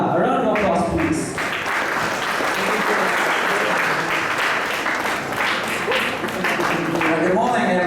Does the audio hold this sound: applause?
yes